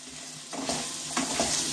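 Turmeric, chili powder and green chili sizzle in oil in a pan while being stirred, with a soft frying hiss that swells and breaks into scraping bursts as the spoon moves, close and alone.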